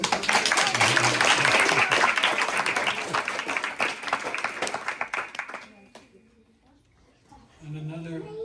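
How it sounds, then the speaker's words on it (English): A lecture audience at an ISKCON temple in Eindhoven breaks into brisk clapping that fades after about five seconds, followed by a pause and then the lecturer speaking again. "You want to give me a clap for that?"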